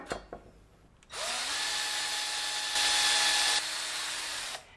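A power drill bores through wood pieces for a homemade instrument built from scrap, a single continuous whining run of about three and a half seconds that rises briefly in pitch partway through, close and loud after a few faint knocks.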